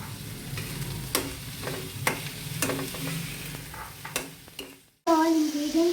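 Eggs, tomatoes and capsicums are stirred in a frying pan for egg bhurji, with a spatula scraping in a regular rhythm over a low sizzle before the frying bursts into a louder, steady hiss near the end.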